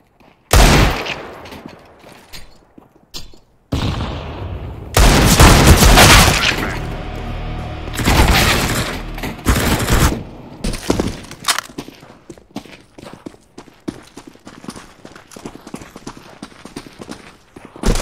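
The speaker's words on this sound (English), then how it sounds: "Deploying flashbang." Counter-Strike: Global Offensive gameplay with a flashbang grenade going off amid bursts of gunfire, loud blasts and rapid crackling shots in the foreground, with scattered clatter between them.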